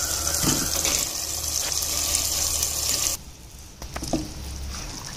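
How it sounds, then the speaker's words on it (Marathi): Broad beans are tipped into a pot of boiling water for a Bhandari-style bean gravy. A loud, steady rushing hiss of water gives way to a quieter bubbling with a few soft knocks. "पाण्याला उकळी आलेली आहे, आता मी वाल घालून घेते."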